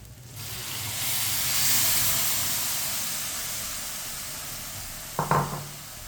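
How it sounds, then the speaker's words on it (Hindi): Three bowls of milk go into a hot pan of grated carrot for halwa, setting off a sudden loud sizzling hiss that slowly fades, followed by a brief clatter of a utensil near the end. "तीन कटोरी दूध डालेंगे जिसके साथ मैंने सूजी ली थी।"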